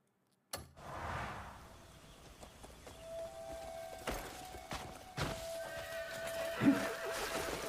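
A horse whinnies and its hooves clop in the video game Crimson Desert, with a bright neigh early on followed by scattered thuds and hoof impacts at moderate loudness, mixed with faint game sound effects and no talking.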